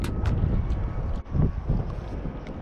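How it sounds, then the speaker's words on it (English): Gusty wind buffets the microphone in a steady rumbling roar, with a few brief knocks and splashes near the water. "It's so windy."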